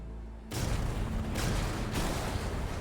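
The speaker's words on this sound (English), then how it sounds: "3 more explosions seal the tanker's fate." Torpedo explosions strike a tanker ship in World War II, a loud, continuous rumbling roar of booming detonations that rises abruptly and stays heavy throughout.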